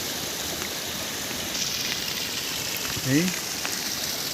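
Heavy rain pours down in a steady, dense hiss on an open landscape in Nepal, with a brief voice breaking in near the end.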